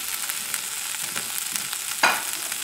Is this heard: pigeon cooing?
no